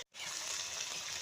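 Water poured into a pan of frying spice paste made with cumin, bay leaf, onion and tomato in a village kitchen, a steady close hiss and splashy trickle lasting about a second after a brief silence.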